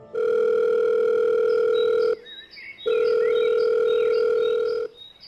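A telephone dial tone on a call to a police station: a steady, loud hum that holds for about two seconds, breaks off briefly, then returns for another two seconds before stopping.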